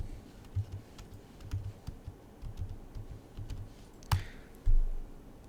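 Computer keyboard typing a web address into a browser window, a scattering of soft, irregular key clicks ending in a louder thump, with a quiet room hum behind.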